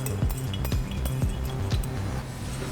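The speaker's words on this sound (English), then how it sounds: "Simply place that inside the agitation hub and put the bolt through." Metal agitator blade seated into the hub of a B/600 auger filler with a bolt pushed through, giving several sharp metallic clinks and knocks spaced irregularly over a steady mechanical background hum.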